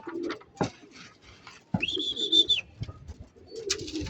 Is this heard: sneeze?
no